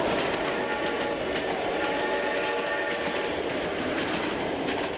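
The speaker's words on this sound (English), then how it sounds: "they took the train." A train runs along railway tracks with a steady, dense rumble and faint clickety-clack that fills the whole stretch evenly, with no voices.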